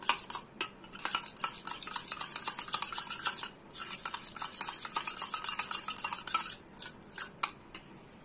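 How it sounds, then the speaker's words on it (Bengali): Spoon beating yogurt smooth in a bowl for Bengali mishti doi, a close, quick series of scraping clinks and soft stirring taps with brief pauses. "এখানে আমরা দইটা ভালো করে চামচ দিয়ে ভালো করে আমরা ঠিক একটা ক্রিমি টেক্সচার করে নেব।"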